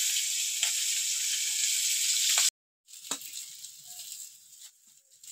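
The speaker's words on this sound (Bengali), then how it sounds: "মাছগুলো ভাজা হয়ে গেছে, এরকম করে তুলে নেব।" Freshly caught mrigal fish fry in hot oil with a dense, loud hissing sizzle that cuts off briefly, then resumes with softer crackles and bubbling from the pan.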